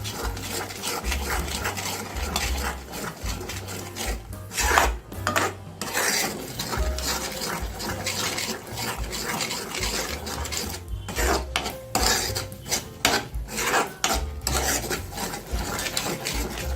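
Masala being sautéed in a pan for prawn (kolambi) masala, with constant rasping scrapes of a spoon stirring against the pan and a busy sizzle, close and without talk.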